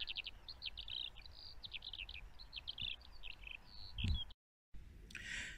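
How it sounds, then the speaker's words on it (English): A skylark sings a continuous run of rapid, high trilling and warbling phrases, fairly clear over a faint low background, with a brief break near the end. "You can hear the skylark singing."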